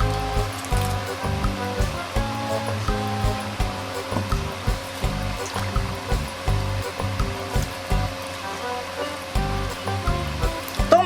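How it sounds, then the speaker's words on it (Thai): Water boils in a pot for a Thai tom yum with banana blossom and chicken, giving a continuous close rushing, bubbling roar with small irregular pops throughout and no one talking. "ต้มน้ำให้เดือดก่อนนะคะ"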